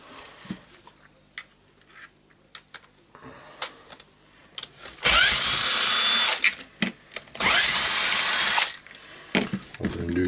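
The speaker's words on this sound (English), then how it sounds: "now I need to unscrew the screws" A power tool spins out screws on a Hilti TE905-AVR breaker during disassembly, giving two loud, close whirring bursts of a few seconds each amid scattered clicks and handling knocks.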